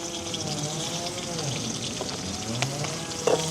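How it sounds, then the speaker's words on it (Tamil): Chopped onion and green chillies sizzle and crackle in hot oil with mustard seeds and fennel in a village kitchen, a steady close frying hiss with light stirring clinks. "இந்த வெங்காயமும் பச்சை மிளகாயும் எங்களுக்கு வதங்கட்டுக்கு"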